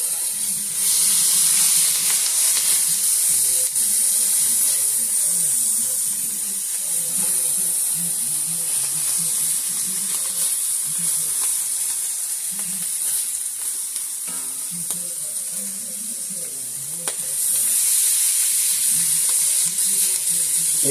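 Meat sizzles steadily in a hot pan for a stuffed shells sauce, a loud continuous bright hiss with soft stirring scrapes, and no voices over it.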